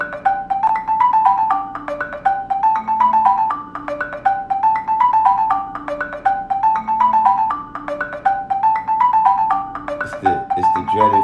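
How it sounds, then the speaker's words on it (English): A phone rings with a repeating electronic melody, looping in even cycles for several seconds, loud and close with no talk over it. "It's the dreaded phone, y'all."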